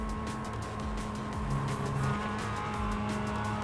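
A race car in the iRacing sim lifts off the throttle on a straight, its engine note dropping to a steady drone. A faint tire or transmission whine sits in the background and nobody speaks.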